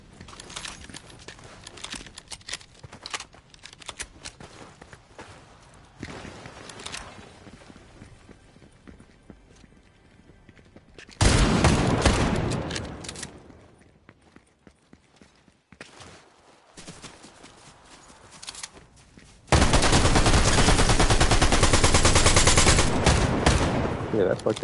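Automatic gunfire in the video game Fortnite, with rapid bursts in several loud dense stretches between quieter moments of game sound, and a voice heard briefly.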